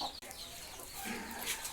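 Domestic chickens in a family's backyard coop cluck and chatter close by, a busy overlapping flock sound with one brief gap near the start and no talking.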